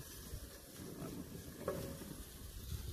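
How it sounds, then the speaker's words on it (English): A quiet, steady sizzle comes from onion caramelizing in a pan, with soft stirring scrapes now and then and no talking. "So I just want to caramelize this onion."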